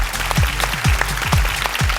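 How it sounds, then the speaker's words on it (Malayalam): A studio audience on a stage comedy show applauds over a thumping, regular beat; dense clapping runs the whole short stretch beneath the pounding pulses. "ഇതിനൊരു നല്ല കൈയടി"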